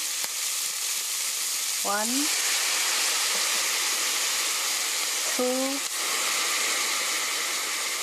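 Onions stir-frying in a pan, then soy sauce being added, give a steady sizzling hiss throughout, with two brief rising tonal sweeps partway through.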